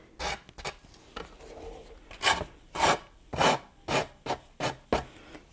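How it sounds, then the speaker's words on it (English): A sanding block rasps along the edge of decoupage paper in about nine quick, scratchy strokes, close and fairly loud with short pauses between them and no speech. "I'm just gonna take a sanding block and I'm just gonna sand that edge."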